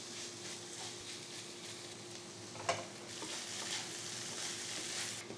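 Cauliflower pepper fry stirred in a hot pan gives a soft, even sizzle with a few scrapes and one sharp knock of the spoon, fairly quiet and close, with no voices.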